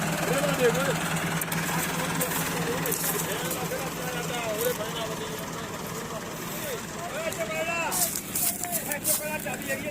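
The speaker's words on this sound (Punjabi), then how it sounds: "ਇਹ ਪਿੱਛੇ ਟਰੈਕਟਰ ਲਾਇਆ ਆਪਣੇ ਵਾਲਾ 75" A Massey Ferguson 75 tractor idles steadily, hitched behind a heavily overloaded sugarcane trolley at a mill ramp, its low engine rumble continuous throughout with people talking over it.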